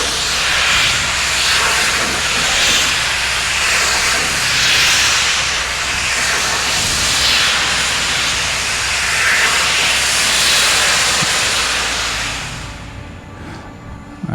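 Hammelmann high-pressure water jet pump spraying at a demo, a loud, steady broadband hissing roar that holds for about twelve seconds before cutting off near the end.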